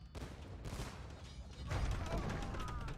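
Bombard cannons in a live-cast death match strategy game fire in a dense, continuous barrage of booming blasts that swells louder in the second half, with a caster talking over the bombardment.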